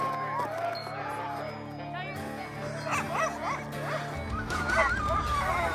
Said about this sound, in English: all we could hear was dozens of dogs.